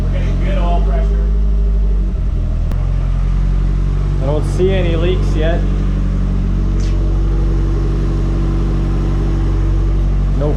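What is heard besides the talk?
Nissan Silvia forged engine idling on first start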